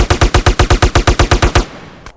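Gunfire in the GTA video game, a loud, evenly spaced burst of about a dozen rapid shots that stops abruptly, followed by a fading tail and one faint click.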